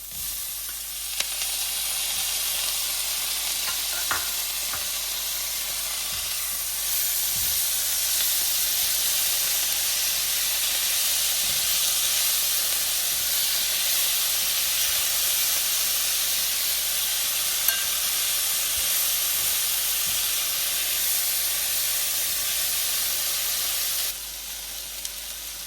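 Tomatoes go into a hot pan of spiced okra and sizzle in a loud, steady, continuous hiss lasting the whole stretch, with occasional soft stirring taps and no talking.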